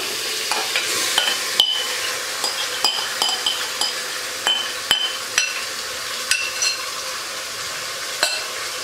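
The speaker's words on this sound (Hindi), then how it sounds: "तो अब मैं इसमें ये जो हमने मैरिनेट चिकन किया था ये शामिल कर दूँगी।" Marinated chicken stirred into frying tomatoes in a pan, a soft sizzle running underneath while a spoon scrapes and knocks against the pan in irregular, close clinks.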